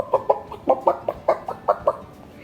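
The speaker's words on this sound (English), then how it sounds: "What sound does a chicken make?" A chicken clucks in a series of about ten short, evenly spaced clucks, close and clear with nothing else behind them.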